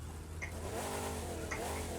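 A classic car engine, either a 1967 Chevrolet Impala or a 1957 Cadillac Eldorado, hums and revs steadily in The Crew 2, with a low continuous drone and rising tones, fairly quiet throughout.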